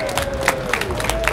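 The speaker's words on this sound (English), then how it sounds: "We're going to have a round of applause for the Harmony Engine" Brief burst of crowd applause and cheering at a NAMM trade show booth, with clapping and shouts layered over a steady hum of chatter throughout.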